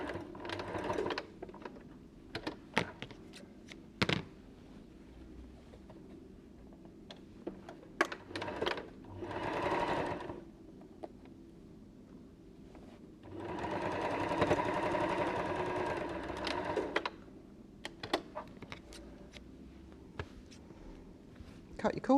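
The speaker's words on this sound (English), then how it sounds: "these are so easy because it is just straight line sewing." Domestic sewing machine running in short straight-line bursts while stitching a fabric basket, with quiet handling clicks between runs and a longer steady stretch of stitching near the middle.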